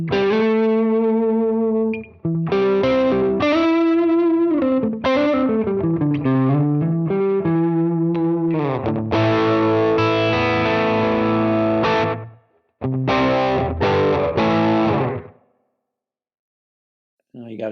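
An electric guitar runs through an Archer Icon overdrive pedal, slightly distorted chords and single notes ringing in phrases with brief pauses, loud and close with no talk.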